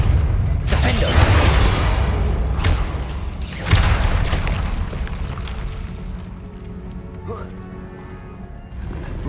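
Fire-spell explosions in Hogwarts Legacy: two heavy booms with whooshing blasts early on, then a rumbling tail fading into quieter mechanical clatter.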